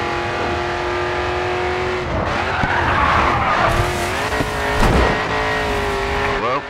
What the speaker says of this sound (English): then get ready to catch the back end as you slide